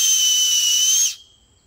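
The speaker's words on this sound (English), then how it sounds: "If you don't have a whistle with you for a rescue, you take an acorn shell" A shrill, steady whistle blown on an acorn shell held in the hands sounds loud and close for about a second, then cuts off abruptly.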